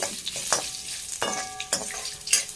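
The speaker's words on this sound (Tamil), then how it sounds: "இந்த கருவேப்பிலை வந்து இந்த ஆயிலில் நல்லா ஃப்ரை பண்ணணும்." Curry leaves fry in hot oil for a tempering for aviyal, a close crackling sizzle with scraping stirring strokes recurring every half second or so.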